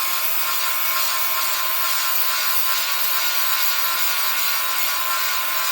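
Angle grinder disc grinding down welds under light pressure, a steady, bright, abrasive hiss held evenly throughout, close and continuous with no talk.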